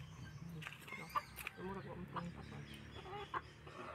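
Chickens cluck close by in a rural barangay yard, scattered short clucks and squawks over a soft background murmur, with people talking quietly in between.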